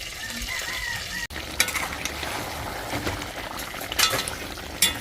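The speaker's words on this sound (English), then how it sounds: "So I'm just gonna cover the pot now and allow it to boil until it becomes tender." A covered pot of jerk pork simmers, giving a steady low bubbling and sizzling bed with occasional sharp clicks and knocks from the lid or utensils, close and moderately quiet.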